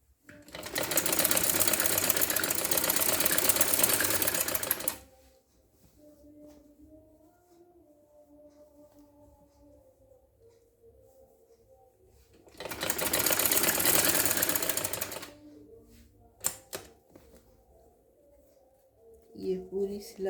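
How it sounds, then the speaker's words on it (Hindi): Sewing machine stitching a trouser, running in two loud sustained bursts separated by a quiet pause, with faint background sounds in between. "ये पूरी सिलाई कर दी हमने।"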